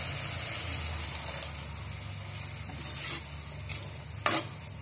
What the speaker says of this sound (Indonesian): kita tambahkan sedikit air